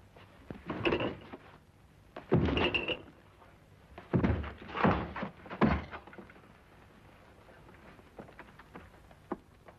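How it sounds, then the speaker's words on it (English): Heavy wooden thuds as a door is forced open in a 1955 Sherlock Holmes radio drama: a few dull, close impacts in uneven bursts, then rattling scrapes and quieter knocks, with no voices. "Force the door open."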